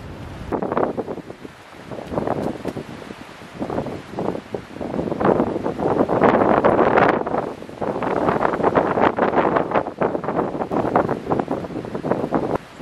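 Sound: strong wind on the beach

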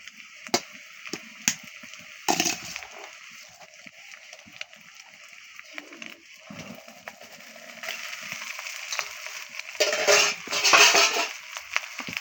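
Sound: leftover cooked rice being fried and stirred in a pan

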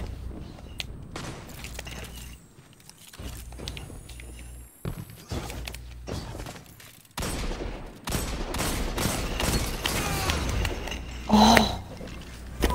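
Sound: hand cannon and sniper gunfire in a video game

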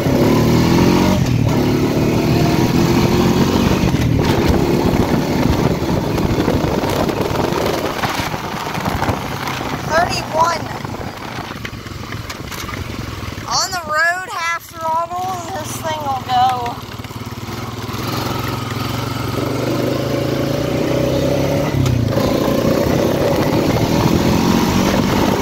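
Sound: Honda quad ATV engine revving while riding

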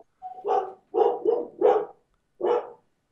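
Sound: dogs barking

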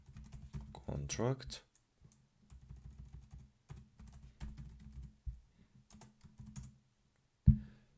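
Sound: typing code on a computer keyboard

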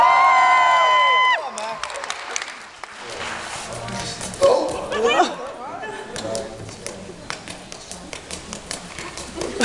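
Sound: convention audience cheering

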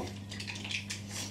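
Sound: bowls and dishes being handled in a kitchen

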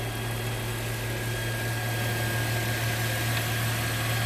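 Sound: Land Rover Freelander 2 3.2 litre Volvo petrol engine idling

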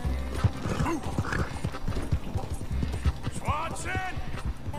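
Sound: horse in video game Red Dead Redemption 2

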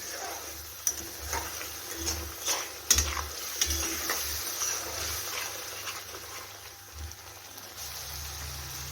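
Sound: masala frying and sizzling in oil while stirred

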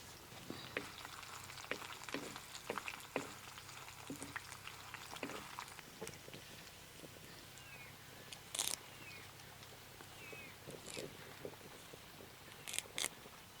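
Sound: garlic cloves and dried red chilies frying in hot tempering oil

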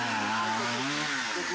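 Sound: chainsaw cutting storm-fallen trees

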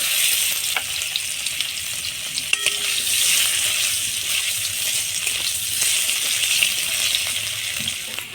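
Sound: potatoes frying in fish oil

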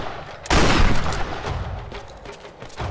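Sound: shotgun firing in the video game Tomb Raider

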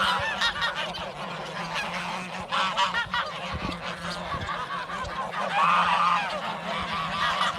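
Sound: geese honking

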